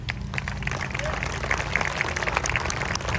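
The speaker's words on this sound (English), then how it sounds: "Give those folks that work for the city and the state a round of applause" An outdoor crowd applauds at a dedication ceremony for a bridge named after the Oak Ridge Boys, scattered claps over a low rumble of wind or traffic, with a voice speaking underneath.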